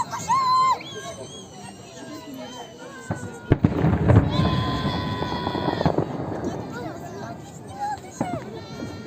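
A Victory Day fireworks salute in Belgorod on May 9 bursts loudly with sharp booms and crackle, while a crowd cheers and voices shout and whistle over it.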